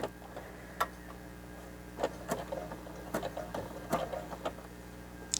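A home sewing machine stitches a fabric face mask slowly, then back-stitches, giving soft, sparse mechanical ticks and clacks at an uneven pace in a quiet room.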